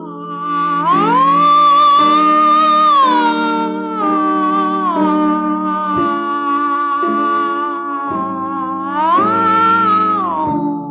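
Two cartoon cats meow in a children's story, long drawn-out tonal meows rising and falling in pitch, loud and close, one continuous yowling voice overlapping another across the whole stretch with no talk.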